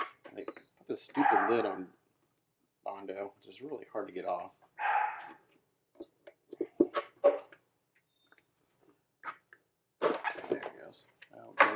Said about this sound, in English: you can hear all the stuff in the background, which are my dogs whining and barking and all that stuff.